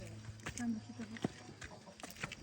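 A rooster clucks in short, quiet bursts nearby, with faint voices and low background noise around it.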